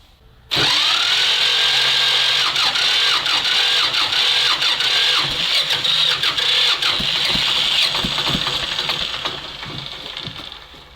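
A T-16 tractor engine cranks and catches, then runs loud and close with a rough, uneven rhythm, revving with rising and falling bursts before easing down toward the end.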